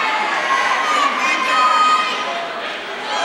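A packed, standing-room-only crowd at a 2008 district wrestling finals roars and cheers steadily, with shouting children and chatter blending into a dense, continuous wash of noise that swells slightly and eases off.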